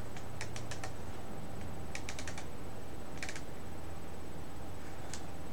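Computer keyboard typing in bursts of quick keystrokes while coding in Rust, with several short clusters of taps separated by pauses, close and fairly quiet over a low background hum, no talking.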